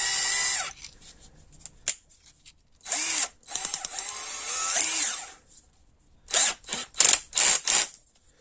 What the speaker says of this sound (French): je vais prendre ma perceuse, je vais prendre mon foret.